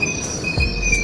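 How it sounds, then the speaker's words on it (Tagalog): A London Underground Piccadilly Line train at South Harrow Station squeals steadily on its wheels at close range, a high whine holding throughout under rumbling rail noise, with no talk. "Yan ang aking train."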